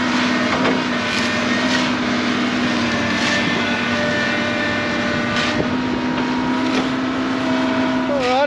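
A digger excavator at work repairing a dairy cow laneway gives a steady, fairly loud engine drone with small shifts in load and a brief rising whine near the end.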